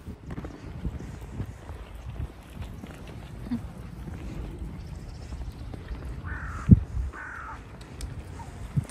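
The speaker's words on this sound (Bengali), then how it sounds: "চারিদিকে পাখির কিচিরমিচির আওয়াজ" Crows caw twice in a quiet stretch of Regent's Park, London, on an autumn walk, a pair of moderately distant calls over faint ambient outdoor noise with a single sharp knock just before.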